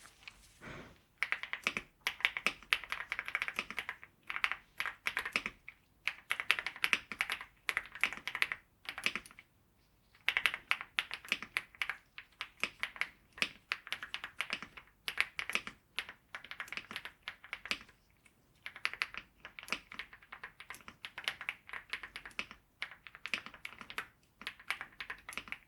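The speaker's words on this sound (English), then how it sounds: "What did that sound like? Keyboard." Typing on a computer keyboard during a soft-spoken ASMR roleplay: close, crisp key clicks in fast bursts with brief pauses between runs, continuing for about twenty-five seconds with no talking.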